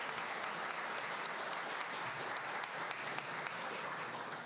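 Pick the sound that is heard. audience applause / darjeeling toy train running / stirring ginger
audience applause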